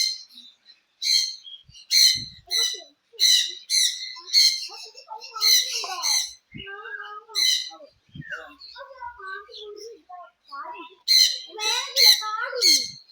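A parrot at a bird sanctuary in Ooty lets out bursts of sharp, repeated squawks, close and fairly loud, with a person talking in the pauses between the calls.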